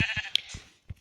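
Sheep give short, nasal bleats in a quick series of bursts with small gaps between them, heard up close.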